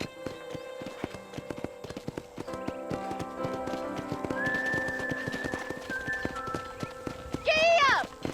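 Horse hooves in Red Dead Redemption clip-clop in a quick, steady gallop rhythm, followed by a horse's sharp whinny near the end.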